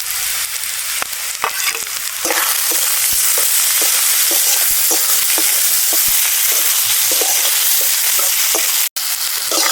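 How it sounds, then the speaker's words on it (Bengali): Chopped tomatoes and onions fry in a pan for a chicken skin curry, giving a steady loud sizzle broken by frequent short stirring scrapes throughout. "পেঁয়াজটা এরকম লাল লাল হয়ে এলে এবারে টমেটো কুচি দিয়ে দেবো"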